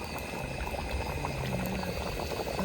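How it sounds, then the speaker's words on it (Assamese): A pot of meat curry boils over a campfire at night, a close, continuous bubbling and gurgling simmer, steady and moderately quiet with no voices. "আমাৰ মাংস উতলি আছে"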